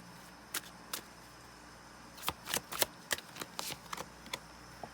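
Tarot cards being shuffled up close in quick riffling bursts, a few isolated snaps first and then a denser run of crisp flicks, quiet against a steady low room hum.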